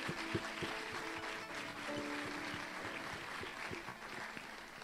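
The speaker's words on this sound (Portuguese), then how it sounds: "Vamos aplaudir a Jesus pela vida dele" A church audience gives quiet, scattered applause for a visiting pastor, soft distant clapping under a faint hum with a few sharper individual claps standing out.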